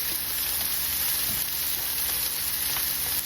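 Bologna fries on a grill in a loud, steady, hissing sizzle that holds evenly throughout, close and without talk.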